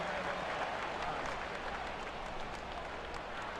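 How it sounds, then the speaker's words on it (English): A virtual stadium crowd in the ESPN Major League Baseball 2K5 video game cheers and applauds in a soft, continuous wash of noise that stays even throughout. "he's getting some encouragement here from the crowd"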